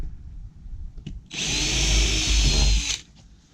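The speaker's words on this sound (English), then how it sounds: "and so that I can pre-drill my holes" A power drill pre-drills holes in fiber cement siding board during a siding repair, a single steady whirring burst of about two seconds, loud and close, with a faint click before it and quiet handling after.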